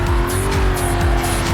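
A BMW M3 races hard in Need for Speed Carbon, its engine droning loud and close while the tires squeal in repeated high shrieks through the corners.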